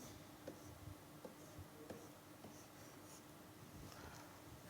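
A pen or marker draws a chemistry diagram during a lecture, faint scratchy strokes and light taps heard over a steady background hiss, close but quiet.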